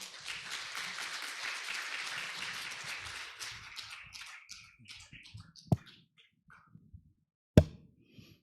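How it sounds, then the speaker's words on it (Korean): Audience applause at the opening ceremony of an international patent court conference, starting as dense clapping and thinning out to a few scattered claps and taps by the end. "Please welcome him with a big round of applause."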